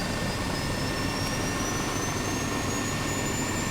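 Jet engine spooling up in Microsoft Flight Simulator, a steady broadband roar with a thin whine rising slowly in pitch, loud and continuous throughout with no talk.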